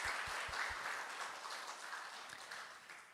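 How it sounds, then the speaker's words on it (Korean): A church congregation applauds a visiting missionary, broad even clapping filling the room at moderate level and tapering slightly toward the end. "다시 한번 큰 박수 해주시기 바랍니다"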